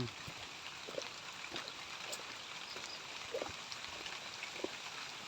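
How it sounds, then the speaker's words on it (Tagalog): Steady rain falls near a mango orchard on a rural farm path in the Philippines, a soft continuous hiss dotted with scattered nearby drips and patters, with no talking. "Umuulan. Umuulan."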